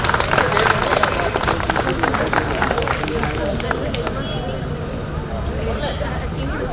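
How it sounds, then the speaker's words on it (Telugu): An audience at a wedding claps, a dense, steady patter of many hands mixed with crowd chatter and a voice speaking over it, fading slightly toward the end. "so please Bigg claps"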